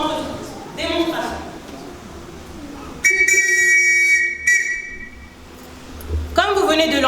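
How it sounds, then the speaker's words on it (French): A scout leader blows a whistle to signal the letter R for assembly, giving one sustained shrill blast of about two seconds, loud and close, with people talking just before and just after it. "Comme vous venez de l'entendre, chef Ourson vient de siffler la lettre R qui signifie chez nous rassemblement."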